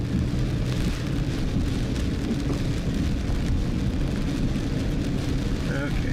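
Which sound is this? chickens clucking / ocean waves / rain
rain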